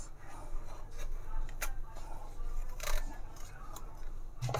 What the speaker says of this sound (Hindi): ये हम इनको इस तरह से छुरी के साथ रिमूव कर देंगे